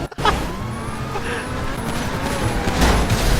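Gunfire in GTA 5 crackles in dense, loud bursts alongside game noise and a passing engine, with people talking over it.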